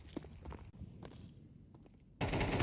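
Gunfire in a Counter-Strike 2 match, a few loud clipped shots and rapid bursts between quieter gaps, ending in a dense burst of fire.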